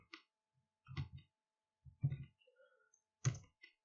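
Scattered clicks of a computer keyboard as text is typed in an Urdu page-layout program, coming in short, separate bursts with pauses between them, close and quiet.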